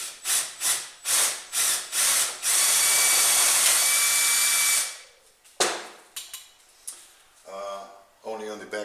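An electric drill whirs in short bursts, then runs steadily for a couple of seconds as it bores a 6.5 millimeter hole into a metal welding ground clamp. Afterward someone speaks briefly.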